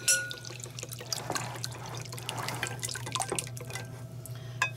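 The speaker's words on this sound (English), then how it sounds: "Now I've just got to mix these two together. Let me get my little whisk out here." A small whisk clinks and sloshes through a keto pecan pie mixture in a bowl, a close, quick run of wet tapping and scraping strokes with no talking.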